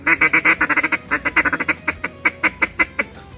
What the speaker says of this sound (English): to create the sounds that I believe are so prevalent when ducks are actually feeding